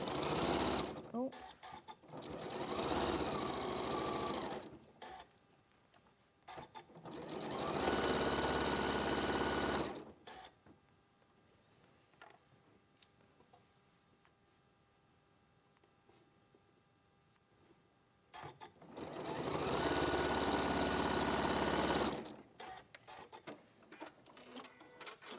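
A sewing machine stitches quilt seams in three separate bursts of rapid, steady mechanical whirring. Quiet stretches between the bursts carry soft talk and small handling noises.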